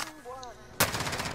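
Gunfire in Call of Duty Warzone: after a quieter stretch with a few faint tones, a loud burst of rapid shots erupts and keeps rattling in close, dense bursts to the end.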